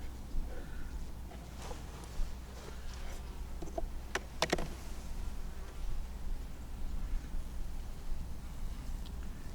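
Honey bees buzzing over an open hive frame, a faint steady hum with a few closer passing buzzes and brief clicks.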